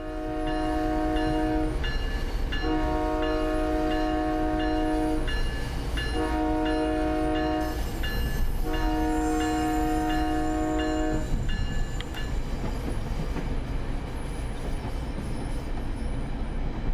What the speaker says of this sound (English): You are welcome for the horn honk.